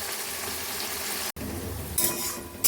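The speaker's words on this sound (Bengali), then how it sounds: "পেঁয়াজটা আমার ভালো করে ভাজা হয়ে গিয়েছে" Onion frying in a pan gives a steady, close sizzle, cut by a brief gap midway, followed by a couple of sharp bright crackles or clinks toward the end.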